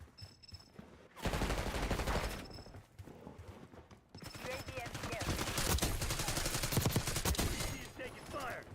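Call of Duty Black Ops 6 gunfire rings out in bursts and rapid automatic volleys, loud and close, over game ambience with brief radio-style callouts between the shooting.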